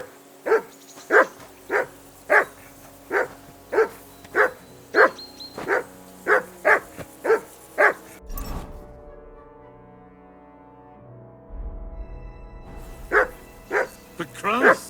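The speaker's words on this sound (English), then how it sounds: "Call off that damn dog before he wolfs down the last of our meat." Dog in the video game Kingdom Come: Deliverance II barking in a fast, regular run of loud, close barks, then breaking off while a low rumble sounds, before barking resumes at the end.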